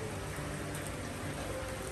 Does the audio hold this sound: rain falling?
yes